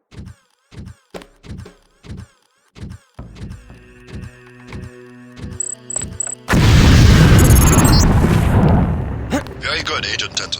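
A LAM mine goes off in the Deus Ex demolitions training area: a series of short thuds and clicks, then a loud roaring blast that rumbles on for several seconds before tapering into crackling debris.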